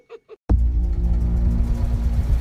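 A car engine starts with a sudden surge, then runs as a loud, steady low rumble. A couple of brief soft sounds come just before it.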